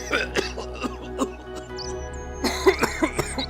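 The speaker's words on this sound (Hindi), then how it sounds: "जोर की खांसी होने लगती है।" A person coughs repeatedly and hard in short, rough bursts, with a pause before another fit of heavy coughing.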